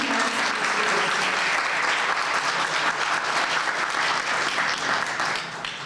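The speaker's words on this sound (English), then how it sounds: "So big round of applause for our Burlington High School." An audience applauds Burlington High School student debaters at a community candidates' debate event, with sustained, even clapping from a sizable crowd throughout, fairly loud and close.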